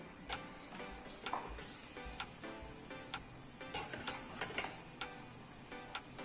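Chicken pakoda pieces fry quietly in hot oil, a faint, even sizzle broken by light irregular ticks and pops.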